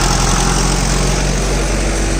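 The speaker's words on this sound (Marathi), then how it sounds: "हे अशा पद्धतीनं सी एन जी स्पीड बसवलेलं हे ट्रॅक्टर" A tractor engine fitted with a diesel and bio-CNG dual-fuel kit runs at a steady, loud, close rumble with a buzzing, vibrating tone and no voices.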